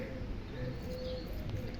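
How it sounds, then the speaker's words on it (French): Birds chirp and coo faintly over a steady low hum of an almost empty city street during a heatwave lockdown, the calls soft and distant with no talking. "Le bruit des oiseaux."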